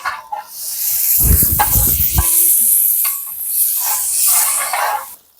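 Small onions frying in coconut oil for a beef leg curry sizzle loudly and close, with scraping spoon strokes and clattering stirs through the middle of the steady hiss.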